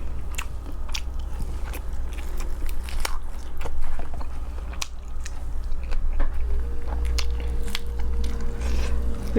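Close, crunchy biting and steady chewing of Lao-style green papaya salad eaten with roasted duck necks, the loud crunches repeating irregularly with no talking.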